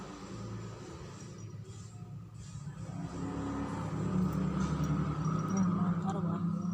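A motorbike engine rumbles low and close, its revving swelling steadily louder over several seconds, while people talk nearby.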